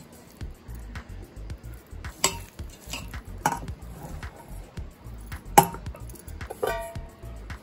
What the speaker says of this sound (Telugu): ఇలా ముక్కలన్నీ బాగా కలిసేలా కలుపుకోవాలండి